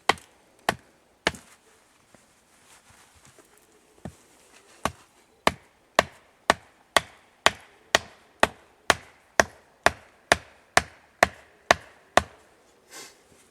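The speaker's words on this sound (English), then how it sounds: "If you're going to nail a post into the ground" A wooden post is hammered into the ground outdoors, with a few scattered strikes followed by a steady run of about a dozen sharp, evenly spaced thuds, close and distinct against a quiet background.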